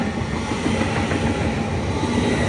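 A Class 802 train, unit 802305, passes at Grantham on the East Coast Main Line, a loud continuous rush and rumble of wheels and carriages close by with a faint hum of the traction motors.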